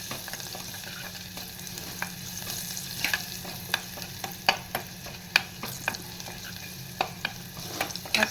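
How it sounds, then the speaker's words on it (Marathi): Garlic and onion sauté gently in a pan over a low flame for black pea sambar, a soft steady sizzle broken by sharp spatula clinks and scrapes that grow more frequent toward the end, with no voices. "मंद गॅसवर हे छान लसूण कांदा असं परतवून घेते"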